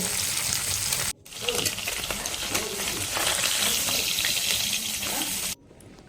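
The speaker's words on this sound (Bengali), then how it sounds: "এক পাশে মাছগুলো ভাজা হয়ে গেছে অন্য পাশে উল্টে ভালো করে ভেজে নিব" Fish frying in oil in a pan, a loud, steady close sizzle with small spits and crackles; it cuts out briefly twice, with no speech.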